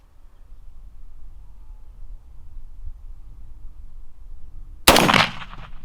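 A single loud rifle shot fired at a 20-yard target cracks outdoors after several seconds of quiet ambient noise, leaving a brief ringing decay.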